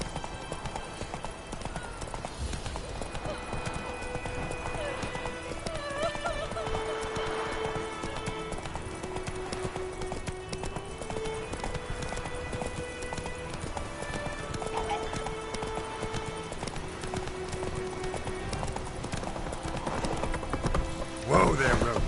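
Hoofbeats of the horse Roach from The Witcher 3 drum in a steady gallop rhythm throughout, accompanied by an occasional whinny, with game music underneath and a voice speaking briefly.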